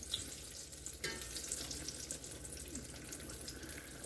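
Apple fritters sizzle in hot oil with a steady, gentle crackle, alone and at moderate distance, broken by a brief louder spit near the one-second mark.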